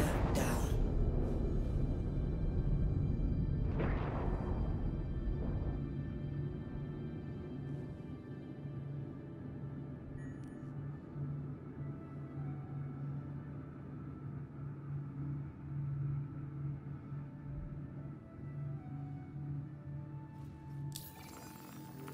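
A Buccaneer spaceship in Star Citizen touches down with its landing gear lowered. A steady, heavy engine rumble and hum holds throughout, with a brief louder swell early on, before a faint whoosh at the end.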